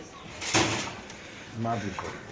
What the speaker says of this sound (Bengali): এখানে আছে দর্শক মাদি কবুতর অনেকগুলো মাদি আছে এখানে